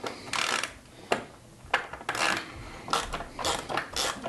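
A socket wrench ratchets off the small retainer nuts holding the Fang lights on a 2021 Polaris RZR XP 1000, close clicking bursts separated by short pauses, with no talking.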